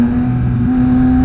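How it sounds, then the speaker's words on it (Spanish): A motorcycle engine hums steadily while riding, heard from the rider's position through a Ruroc Atlas 4.0 Track helmet, a constant loud drone with a strong low tone and no talk. "lo bueno que tiene este casco es que nos permite escuchar a la perfección nuestra moto"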